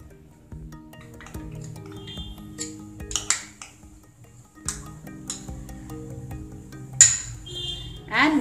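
A spoon mixes butter and condensed milk in a bowl for an eggless orange chocolate cake, making soft, irregular clinks and scrapes against the dish, quiet and close, with no speech.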